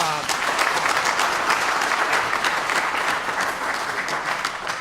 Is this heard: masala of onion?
no